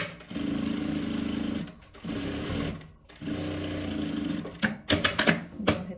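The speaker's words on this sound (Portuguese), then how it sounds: "Vou passar a costura fechando esse lado. Aqui eu vou costurar nessa parte." A sewing machine stitches the side seam of a bag in three rapid, whirring bursts separated by short pauses, followed by a few quick stop-start jabs at the end.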